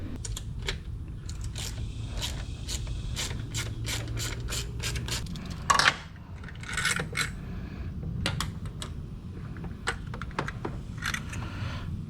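A hand ratchet clicks in quick bursts of rapid pawl ticks while working a fastener loose on the blowout valve of a MKIV Toyota Supra intake, close and alone with brief metallic knocks between strokes.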